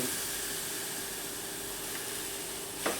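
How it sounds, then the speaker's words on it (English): A steam iron held against a Warwick Corvette bass fretboard during a twisted-neck repair releases a steady, close hiss of steam that carries on evenly, with a small sharper burst near the end. "you can hear it steaming there, and we're just going to get some steam in"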